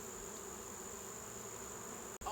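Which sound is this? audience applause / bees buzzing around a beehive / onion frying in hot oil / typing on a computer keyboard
bees buzzing around a beehive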